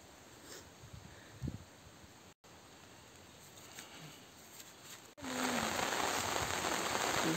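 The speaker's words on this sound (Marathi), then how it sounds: "मित्रांनो पाऊस आलेला आहे खूप" Rain falls over hilly Konkan village country, first as a soft, faint patter with a few distant knocks, then after a brief break it swells abruptly into a loud, dense, steady downpour.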